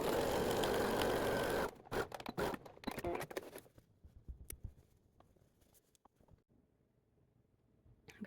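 Sewing machine running a long stitch down a dress seam, a steady loud whir for under two seconds, then stopping into quiet fabric rustles and small handling clicks.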